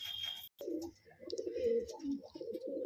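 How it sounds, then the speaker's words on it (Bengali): Male pigeon cooing close by, a few soft throaty rolling coos in quick succession after a brief high chirp. "এটা নর পায়রা।"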